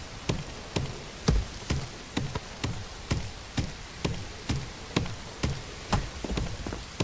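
Rain in the video game Everwind, heard as a soft steady patter. Regular sharp tapping hits of digging cut through it close by at about two per second.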